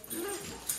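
A dog lets out a short, thin whimper, a brief high whine heard fairly close, with no talking over it.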